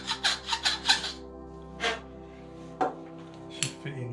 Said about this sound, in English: Just deburring inside of this.